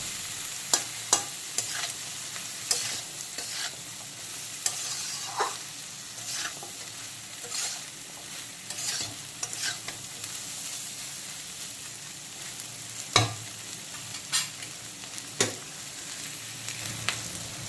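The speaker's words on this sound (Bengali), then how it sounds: "এখন কুমড়োর সাথে মাছের ডিম, কাঁচা আম এগুলো সব আবারও খুব ভালো করে সব কিছু মিক্সড করে নেব" Pumpkin, fish roe and raw mango stir-fried together in a pan for a chutney, with a steady background sizzle broken by repeated sharp scrapes and clatters of a spatula, close and moderately loud, no talking.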